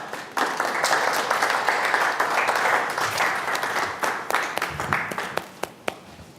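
Conference audience applauding steadily after a talk at a diplomatic event, a broad wash of many hands with a few sharper individual claps standing out toward the end as it tapers slightly.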